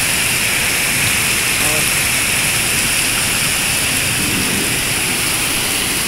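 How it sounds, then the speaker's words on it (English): Heavy tropical storm rain pours down as a dense, loud, continuous hiss and roar, with some muffled talk partly under it. "it's raining that hard"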